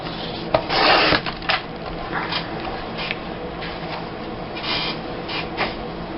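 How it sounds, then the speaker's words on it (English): A paper postcard is trimmed by hand for a scrapbook page from a Seaside, Oregon vacation. Close, dry scraping and rustling come in uneven strokes, with one louder cutting burst near the start and no talking. "I'm going to trim it just a little bit"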